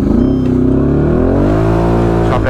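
An ATV engine revs hard at close range in stormy, red-alert weather. It holds a loud, steady growl whose pitch rises and sways as the quad pulls away.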